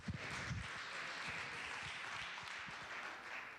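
An audience at a talent show applauds a performer, a dense, fairly distant patter of many hands clapping steadily, with no voices over it.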